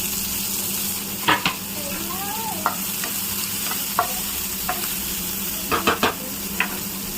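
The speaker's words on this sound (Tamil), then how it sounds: "இது பாருங்க வெங்காயம் வந்து சும்மா லேசாக வதங்கினா போதும்." Thin-sliced onions sauté on a tawa in oil left from frying prawns, a steady sizzle broken by several sharp stirring scrapes and clicks of a spatula, with no talk.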